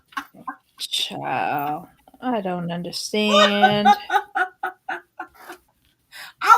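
A woman imitates a chicken's clucking with her voice, a run of pitched, rhythmic clucks and squawks mixed in with lively conversational speech at close range.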